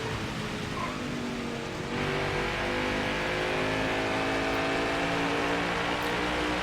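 Stock car engine roaring at sustained high revs during a NASCAR Heat 5 race at Richmond, a steady loud drone that swells slightly after the first two seconds, with no talking.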